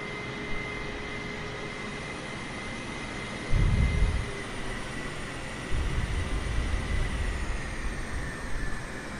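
A Boeing 747-400 in the MSFS 2020 flight simulator taxis under its own power: a steady, low jet-engine drone with a fixed high whine, and two heavier surges of low rumble partway through.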